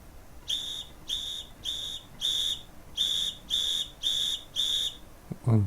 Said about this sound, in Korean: 휘슬 소리가 좀 잘 나옵니다